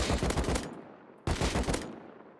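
Two loud, close bursts of rapid automatic gunfire in the video game Rust, fired at a long-range target on a practice server, each burst a fast string of cracks separated by a short silent pause.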